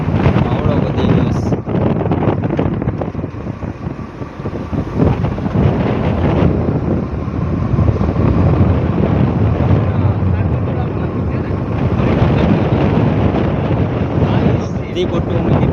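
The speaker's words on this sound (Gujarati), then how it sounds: "વાવાઝોડું પાકા જગ્યાએ તોફાન વાવાઝોડા વધી ગયું" Strong storm wind roars at sea around a fishing boat out after pomfret, a dense, constant buffeting of wind over the microphone with rushing water beneath, loud and unbroken throughout.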